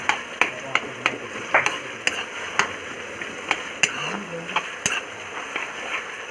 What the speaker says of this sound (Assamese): এইফালে তৰৈ ভাজি বনাই আছোঁ